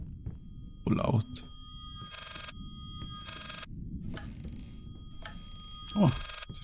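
Repeated electric telephone bell rings inside the haunted house of the horror game Layers of Fear, several loud buzzing bursts separated by short gaps, with brief spoken exclamations near the start and end.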